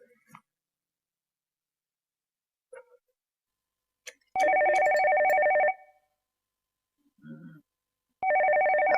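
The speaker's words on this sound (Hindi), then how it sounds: "किसका फोन आ जाए?" A telephone rings indoors in two loud electronic bursts separated by a short gap, with faint rustles and small noises between them.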